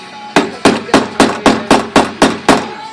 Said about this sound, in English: Unless, of course, you're gonna hammer it in screws with a screwdriver.